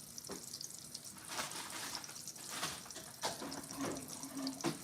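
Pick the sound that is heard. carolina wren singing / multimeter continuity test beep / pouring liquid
pouring liquid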